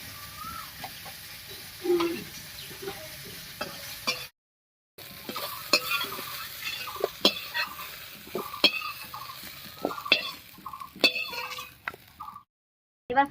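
Bitter gourd fried in hot oil until reddish, stirred with a utensil: continuous close sizzling punctuated by frequent sharp scrapes and clacks against the pan, with two brief silent gaps.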